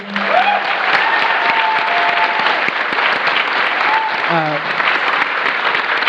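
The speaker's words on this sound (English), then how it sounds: "Would you give them a round of applause, please?" A town hall audience gives panelists loud, sustained applause, dense clapping throughout with brief whoops and voices rising over it.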